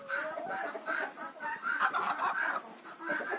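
Hens cluck and call repeatedly in a farmyard where goats have been let out to roam with them, a busy, fairly close stream of overlapping clucks with no talk.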